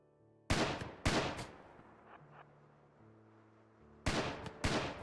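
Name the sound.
gunfire in colony video game, mom and kid shooting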